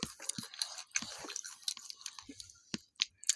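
Close, wet chewing and crunchy biting of chicken feet in an eating challenge, with irregular bursts of mastication and small crunches over about three seconds, no talking.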